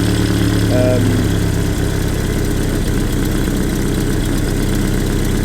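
A Land Rover Series 2 with a 2.25 petrol engine idles close by after an idle speed adjustment, a loud steady low rumble with a brief higher mechanical whine near the start.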